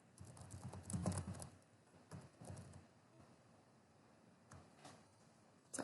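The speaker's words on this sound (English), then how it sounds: "I'm typing in my email." Someone typing an email on a computer keyboard: quiet, uneven clusters of key taps, close but faint, with pauses between bursts.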